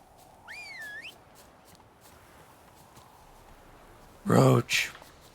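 Geralt whistles to call his horse Roach in The Witcher 3, a rising and falling tune near 0.5–1 s, followed later by two loud hoof or footstep thuds over quiet game ambience.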